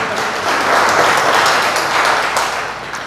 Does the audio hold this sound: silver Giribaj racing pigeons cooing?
no